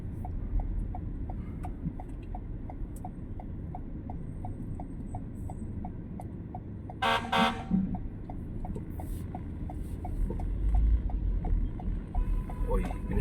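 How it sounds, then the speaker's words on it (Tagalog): Loud city traffic rumble at Tomas Morato and Kamuning Avenue with a steady rhythmic ticking, broken by a short, blaring horn honk partway through from a nearby truck. "oy, pinusinahan ako ng truck."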